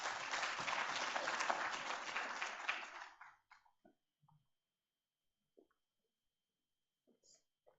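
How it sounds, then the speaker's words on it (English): An audience at an entrepreneurship day event applauds a welcomed speaker with dense, steady clapping for about three seconds, then the applause cuts off into near silence broken by a few faint scattered noises. "Let us welcome him with a big round of applause"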